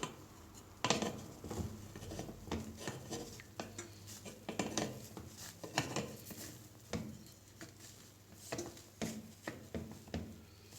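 A spatula scrapes and taps in a frying pan while food is turned over, giving irregular metallic clinks and scrapes, close and fairly quiet, with no voices.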